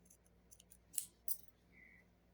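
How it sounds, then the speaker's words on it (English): Scissors snipping yarn after crochet slip stitching, a couple of faint, quick, close cuts with light handling noise in a quiet room. "slip stitch, pull up a loop, and cut your yarn"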